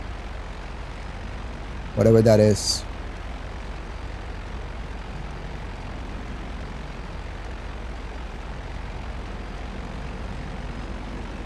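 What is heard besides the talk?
jet engines in the video game GTA Online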